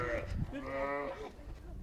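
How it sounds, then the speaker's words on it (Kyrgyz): A female lamb of a prized sheep breed bleats in a pen, one drawn-out wavering call up close, with people talking around it. "Бул жанакы Дракуланын ургачы козусу."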